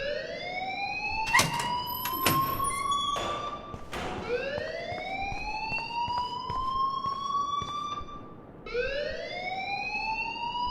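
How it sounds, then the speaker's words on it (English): A school alarm in the video game Life is Strange rings in repeated rising electronic wails, steady and moderately loud, with occasional thumps underneath. "please turn off that alarm since that's your job"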